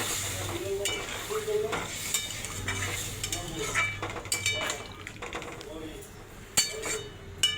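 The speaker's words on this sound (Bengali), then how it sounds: "আবার একটু নাড়িয়ে চাড়িয়ে নিলাম।" Spice paste with coriander, cumin, salt and sugar sizzling in a pan as it is stirred, a spoon scraping and clinking against the metal in uneven strokes, with louder knocks near the end.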